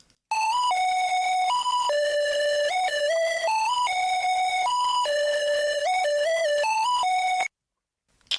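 A reversed, heavily effected melody layer made in FL Studio, with distortion and EQ, plays as a bright, bell-like synth line of stepping tones for about seven seconds and then stops abruptly.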